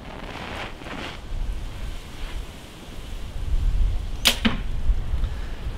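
An arrow shot from a compound archery bow, fitted with a stabilizer weight, strikes an outdoor target with a short sharp thwack amid steady wind noise on the microphone; soft whooshes come before the single impact.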